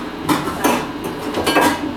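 A cooking pot being covered with a lid for couscous: several close metallic clinks and scrapes of the lid against the pot rim, in a quiet kitchen.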